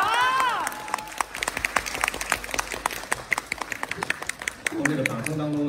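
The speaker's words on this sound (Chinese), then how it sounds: "从这个掌声当中能看出来" An audience at a live crosstalk comedy show claps in a quick burst of applause that tapers off, while a performer's voice carries over it at the start and end.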